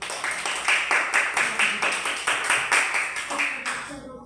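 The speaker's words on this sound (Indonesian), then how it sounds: "tepuk tangan dulu untuk kelompok 1" A classroom group claps in a steady rhythmic beat, roughly two claps per second, moderately close and fairly loud, for about four seconds before stopping abruptly.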